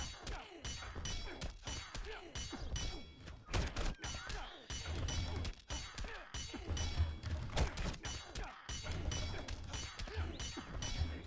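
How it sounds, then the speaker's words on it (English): A Parademon summon in Injustice 2 Mobile comes through as a dense barrage of game combat sounds: thuds, whacks and crashing impacts over a loud, busy backdrop, with no clear talk. "there's the Parademon summon in case anybody was wondering"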